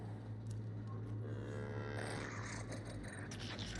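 A woolly cow in The Outer Worlds game moos over a steady low game hum and ambient background, with a drawn-out bovine call in the middle.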